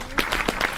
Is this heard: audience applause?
yes